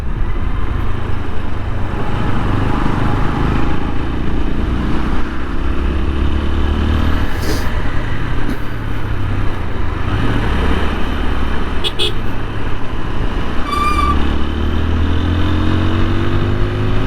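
A TVS Apache 160 4V motorcycle engine with a tappet noise runs steadily up close, a constant mid-range mechanical drone with faint ticking, while passing traffic sounds in the background.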